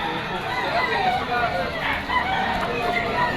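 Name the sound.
rooster crowing, Kelso bloodline stag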